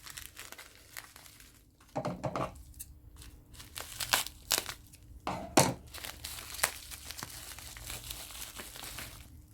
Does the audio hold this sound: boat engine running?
no